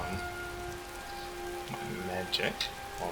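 Rain falls steadily in Skyrim as a soft continuous patter, with a few brief louder drops and bumps near the end.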